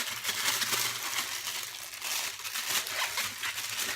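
Soft, steady crinkling of a plastic bag, rustling close by with gentle irregular crackles and no talking.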